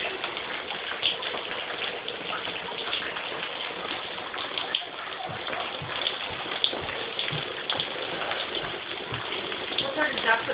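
Water pouring through a house ceiling like rain, a steady rushing, splattering spray that stays even throughout, moderately loud indoors with occasional louder drips, and people talking now and then.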